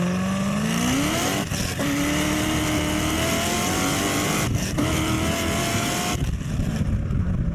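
A Chevy LS3 V8 revs hard and close, the engine note climbing through repeated gear shifts with brief dips between pulls, loud and continuous.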